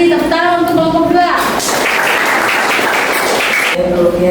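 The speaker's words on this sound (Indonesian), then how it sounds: "tepuk tangan untuk kelompok 2" A classroom group gives a short burst of clapping for a student presentation team. A voice talks just before it, the applause fills the middle of the moment, and speech resumes as it ends.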